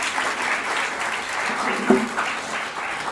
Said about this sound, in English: let's have the big round of applause for the senior member over here